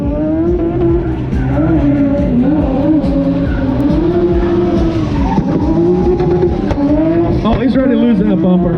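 Car doing a burnout at the SEMA Show Las Vegas Hoonigan event, engine roaring at high revs with continuous loud tire squeal, while excited spectators shout and talk over it.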